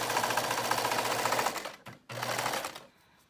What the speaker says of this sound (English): So now you're going to stitch this all around.